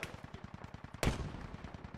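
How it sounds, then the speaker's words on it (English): Rapid automatic gunfire in the military shooter game Squad rattles in a steady, fast rhythm, then a heavier, booming shot lands in the middle as the firing continues, moderately distant. "I don't know where we're getting shot from"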